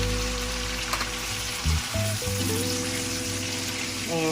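Diced tomato fries in a pan for beef biryani, giving a steady, close sizzle with occasional stirring scrapes and a faint musical background throughout.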